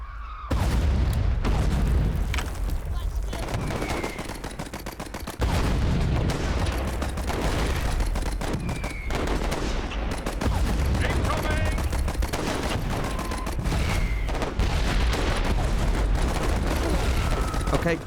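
Near-continuous machine gun bursts and heavy mortar booms fill a war video game battle, loud and dense for the full stretch, with overlapping shots and impacts and only brief lulls.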